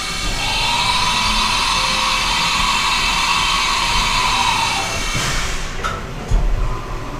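A CNC machine starts its cycle drilling a fidget spinner in a high school shop, a loud steady whine and hum droning near and alone, with a few clunks near the end.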